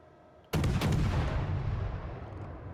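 Naval artillery in World of Warships fires a sudden loud salvo after brief quiet, the sharp blast followed by a rolling, slowly fading boom.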